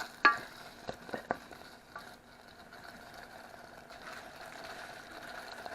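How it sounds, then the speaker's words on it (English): Chopped white onions softening in melted butter in a pan give a faint, low steady sizzle, opened by a few quiet clicks and taps of a utensil, with no voices. "So this is basically just cooking this to melt the butter and to soften the onions"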